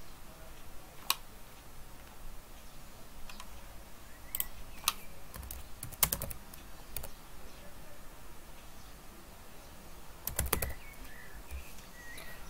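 A search is typed on a computer keyboard, with sparse, fairly faint key clicks and a few sharper taps over a steady background hiss, and no voices.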